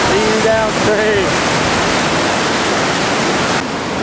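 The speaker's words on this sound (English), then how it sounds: "Next stop of the day, Iron Ring Rapid. Glass 5, whitewater action over here, river left." Class 5 whitewater at Iron Ring Rapid on the Upper Gauley river roars in a dense, unbroken rush, loud and close, with a brief voice near the beginning.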